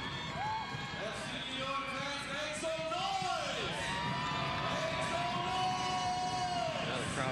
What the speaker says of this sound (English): Now the crowd again brings itself to life